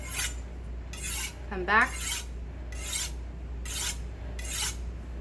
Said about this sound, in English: Clean, even strokes so that it sings across the steel.